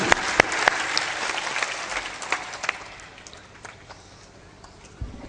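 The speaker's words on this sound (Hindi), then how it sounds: "ताली बजा दो, निर्मल बना लो।" Audience applause at a Hindi religious sermon, a burst of clapping with sharp individual claps that thins and fades toward the end, with a few scattered late claps.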